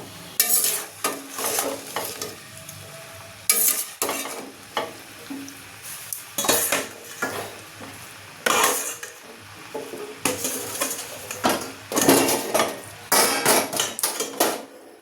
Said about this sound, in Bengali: এবার আমি এটা দিয়ে দেবো, দিয়ে সাবুটা ভালো করে মিক্সড করব